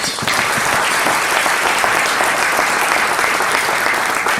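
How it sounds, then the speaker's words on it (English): Loud, dense audience applause rings out at a Martin Luther King celebration event honoring sponsors, a close, continuous wall of clapping from start to finish with no speech on top. "Can we give them another applause?"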